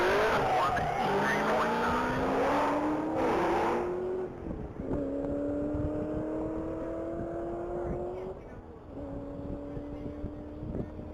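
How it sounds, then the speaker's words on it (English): A red 2009 Ford Mustang Shelby GT500 races flat out at a top-speed mile event, its loud engine note climbing in pitch through repeated gear pulls before fading into the distance. "online again is car number 98, that's Tim G, and it's red, 2009 Ford Mustang Shelby GT500"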